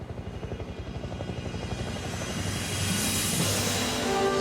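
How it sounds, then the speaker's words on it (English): A helicopter flies in over frozen Canadian wilderness, its rotor thudding in a rapid rhythmic chop that grows louder and more continuous as it approaches. "It's a helicopter, I know it is."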